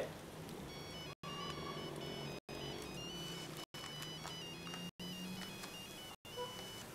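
A mobile phone rings with a repeating melodic ringtone, each phrase cut by a brief silent gap, heard indoors at moderate level with faint background noise.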